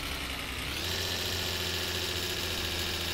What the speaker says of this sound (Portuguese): Tem que esgrelar o motor mesmo